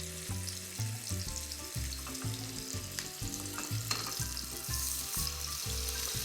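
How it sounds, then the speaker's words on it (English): Sea scallops searing in hot shimmering oil in a pan, a steady close sizzle and crackle running throughout, with a layer of soft rhythmic background music underneath. "We like the pan to be nice and hot when we drop the scallops in to ensure that we get a good sear"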